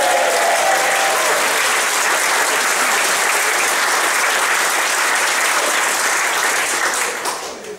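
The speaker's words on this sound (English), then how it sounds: "give him a big cheer" A class applauds a newcomer about to try Scottish country dancing for the first time, ready to dance the Flowers of Edinburgh: loud, dense, continuous clapping fills the room and tapers off near the end.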